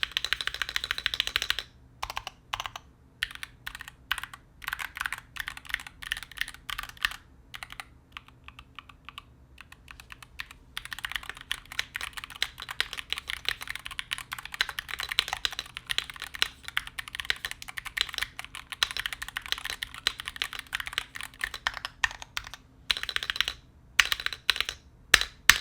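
Steady typing on a Varmilo gaming keyboard fitted with lubed Gateron dual rail switches and stabilizers, plus layers of dampening and spacebar foam, giving a dense, continuous stream of close, muffled keystrokes with brief pauses.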